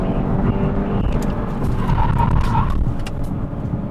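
An Audi car drives along a real road, its engine and tyre noise steady and close throughout, with a brief higher-pitched squeal that may be the brakes partway through.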